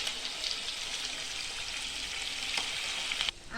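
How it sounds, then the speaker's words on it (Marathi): Chicken 65 deep-fries in oil in a kadhai, giving a dense, steady sizzle that runs for the whole stretch. It is close and even, with a brief drop near the end and no voices. "राहिलेले पण आहे ना आपण अशाच प्रकारे सगळे कढईमध्ये सोडून आहे ना तळून घेऊ"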